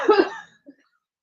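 One harsh, throaty cough up close after a hit from a joint roach, followed a moment later by a small short cough or throat sound, then silence.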